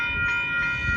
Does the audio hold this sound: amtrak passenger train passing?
yes